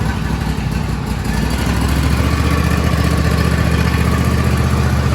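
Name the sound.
John Deere D130 lawn tractor engine started and idling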